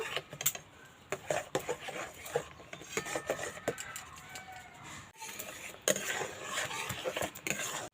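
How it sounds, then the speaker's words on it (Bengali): Powdered milk from four packets stirred a little at a time into hot water in a bowl, with close scraping and clinking of a spoon against the bowl in irregular bursts. "এখানে চার প্যাকেট গুঁড়ো দুধ আছে অল্প অল্প করে দেবো আর এইভাবে মেশাতে থাকবো"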